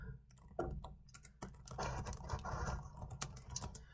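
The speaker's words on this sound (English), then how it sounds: "I'm typing here," Rapid, uneven tapping from typing on a computer keyboard, close up and fairly quiet, continuing steadily throughout.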